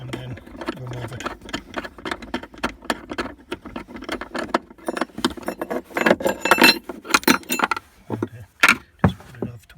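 A 10mm bolt on a BMW 1 Series battery bracket is worked loose with a ratchet, giving rapid metallic clicks and clinks in uneven bursts, close and fairly quiet, ending with a few sharper knocks as it comes free.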